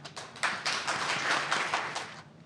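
Audience applause at an academic forum panel session, starting with a few scattered claps and building into a dense, steady round of clapping from a seated crowd in a hall, with no talking over it.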